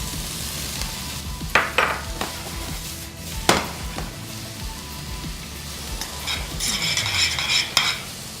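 Zucchini, eggplant and string beans stir-fry in a pan with vegetable broth, a steady close sizzle broken by sharp scraping stirs of the utensil, growing louder and busier toward the end.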